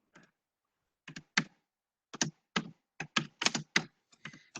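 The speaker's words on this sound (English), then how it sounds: "You're both typing loud." Computer keyboard typing picked up on a virtual meeting call: irregular bursts of crisp key clicks, some in quick clusters, fairly faint and isolated with no talking.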